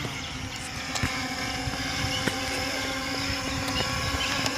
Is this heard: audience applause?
no